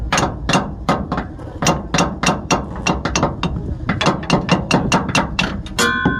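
Repeated metal hammer blows knocking out a leaf spring bushing on a Mitsubishi Strada pickup, about twenty sharp, close strikes in a steady, fast rhythm with a brief ratcheting rattle at the end.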